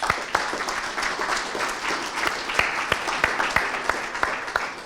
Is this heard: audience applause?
yes